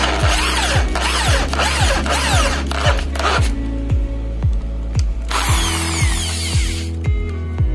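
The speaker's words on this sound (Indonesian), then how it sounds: "Oke teman-teman, langsung saja kita bor." A power drill bores out the worn drain-bolt seat on a diesel fuel filter housing, its motor whining loudly and steadily with rhythmic pulsing and brief dips in speed, close up and with no talk.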